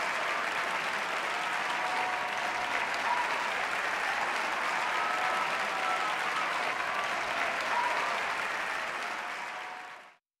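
Studio audience applause in the Wheel of Fortune PS4 game, a dense, sustained burst of clapping heard alone for about ten seconds before fading out abruptly.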